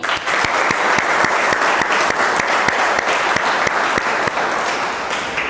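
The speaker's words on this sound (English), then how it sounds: "Please clap for Sweetie." Steady, dense audience applause at a school poetry recitation on Kamala Das's poem, continuous loud clapping with many individual claps, no talking over it.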